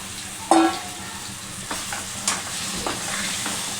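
Marinated chicken for gongura chicken dropping into hot oil and frying in a pan, a steady sizzle with a few sharp clatters and stirring scrapes.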